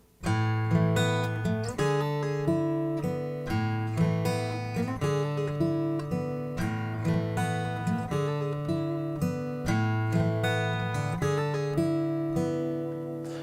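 A guitar picked slowly and steadily, notes ringing over a repeating low bass pattern, clear and close with no voices.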